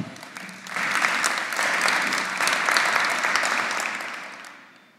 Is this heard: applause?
yes